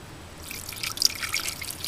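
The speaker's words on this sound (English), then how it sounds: "just pour some water" Water poured over the thermostat housing of a Ford Mustang engine after old gasket material is scraped off, giving a soft, close dripping and trickling patter that runs steadily for about two seconds with no talk.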